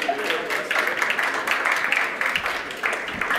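Audience applause at an insurance awards ceremony, fairly loud continuous clapping from a crowd, sustained and even from start to finish with faint voices underneath.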